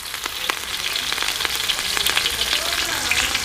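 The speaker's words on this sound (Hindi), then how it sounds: "तो ये जीरा ऐड हो गया, जीरा को हम तड़कने देते हैं।" Cumin seeds crackling in hot oil in a pan, a dense, close sizzle with sharp pops scattered throughout.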